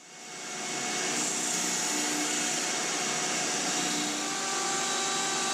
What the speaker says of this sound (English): by using my router table and a 1/4 inch straight cutting bit, I cut a groove through the middle of the arm